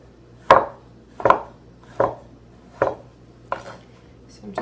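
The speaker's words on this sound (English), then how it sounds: "I'm just going to cut the pear in thin strips or slices" A knife cuts a ripe pear into thin strips on a cutting board, giving about six crisp, evenly spaced chops that land close and clear, each followed by a short pause, with no voices.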